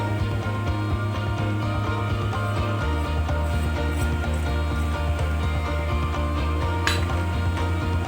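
Roasted cumin, salt and lime juice being added to sweetcorn in a bowl, with light clinks of a spoon against the dish over a steady low background hum.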